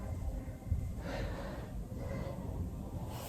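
Breath exhaled during a yoga roll-down exercise, a few soft, close breathy gusts rising and falling in a quiet room.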